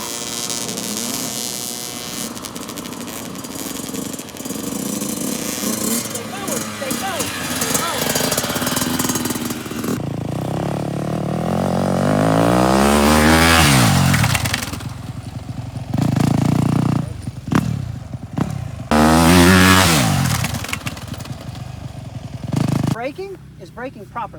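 A Yamaha YZ65 dirt bike revs and buzzes during a riding training session, the small two-stroke engine rising and falling in pitch with several sharp throttle bursts, a coach's voice heard nearby.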